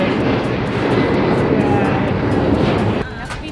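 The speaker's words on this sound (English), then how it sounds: "Big old plane going ahead somewhere." Large airplane passing overhead outdoors near a convention centre: a loud, broad jet roar that holds steady, then drops off sharply near the end, with people talking underneath.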